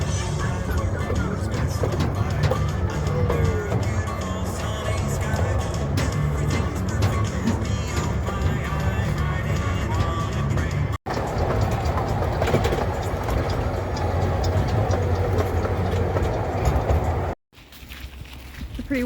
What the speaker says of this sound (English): Okay, we're gonna ride on the Central California Children's Railroad.